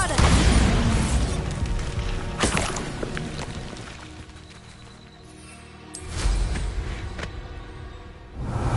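Bombarda exploding spell in Hogwarts Legacy, heavy booming blasts at the start and again later, with loud rumbling bursts separated by a quieter stretch and no talk.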